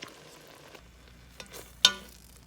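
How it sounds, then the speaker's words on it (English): Cranberries cook in a pot on low heat, making a faint, soft bubbling with an occasional small pop or utensil clink, no voices. "just put them on a low simmer and just let them be able to sit there and cook"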